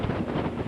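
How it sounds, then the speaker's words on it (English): Wind buffeting the microphone on an open ferry deck crossing from Calais to Dover, a brief steady rush with low gusty rumble and no talk. "A little windy, but nice."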